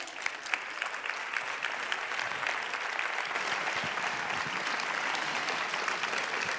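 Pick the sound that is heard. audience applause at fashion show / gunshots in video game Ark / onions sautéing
audience applause at fashion show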